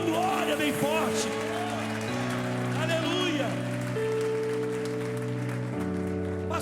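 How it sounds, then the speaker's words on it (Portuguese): A church congregation claps steadily during a pastor's sermon, a dense wash of applause with a sustained organ or keyboard chord underneath and a voice calling out over it. "Aplaude ele aí, dá uma glória bem forte."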